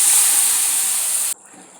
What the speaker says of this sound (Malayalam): മസാലയൊക്കെ മൂത്തു. ഇനി നമുക്ക് ഇതിലേക്ക് ഇടുവാണേ.